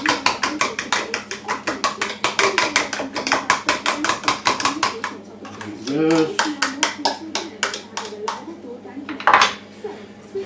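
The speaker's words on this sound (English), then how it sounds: "To egg number 2. A bit of a whisk." A whisk beats eggs in a bowl for pommes dauphine with rapid, regular metallic clinks, pauses briefly, then resumes with a few more strokes and a sharp knock.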